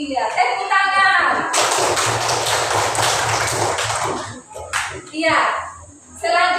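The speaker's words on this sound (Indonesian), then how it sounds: "Iya, tepuk tangan." A classroom of young children claps together in a loud, fast burst for several seconds, with a teacher's voice and children's voices heard before and after the applause.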